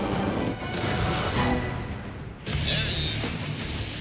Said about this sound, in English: And when that gun goes off